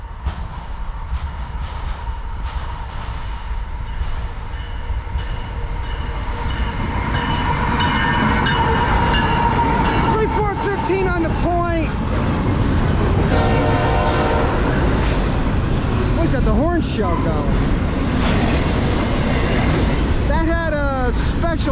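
Eastbound CSX freight train passing through Edison with a heritage-scheme locomotive, loud horn blasts building as it nears, then rumbling wheels and clattering cars close by; someone talks over the passing train.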